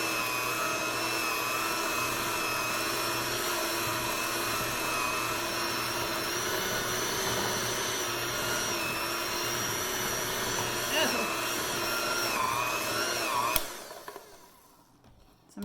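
An electric mixer blends oatmeal cookie dough, its motor whirring at a steady pitch with slight changes in load for about thirteen seconds before cutting off into near quiet.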